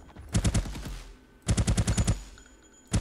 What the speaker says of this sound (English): at the moment I can shoot on ground or basically any other surface